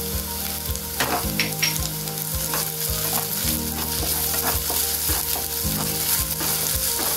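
Onions and ginger garlic paste sauté in a pan, giving a strong, continuous sizzle with regular rhythmic scrapes and knocks of a spoon stirring, close and loud with no talking.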